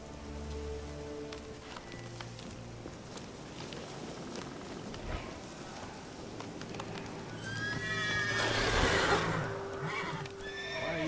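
A horse whinnies loudly near the end in The Witcher 3, preceded by hoof clopping over a patter of rain and ambient background sound.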